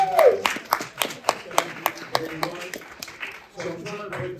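Scattered clapping from a Mother's Day audience, a dozen or so distinct, fairly crisp claps at a steady rhythm, with voices talking and calling out over and between them.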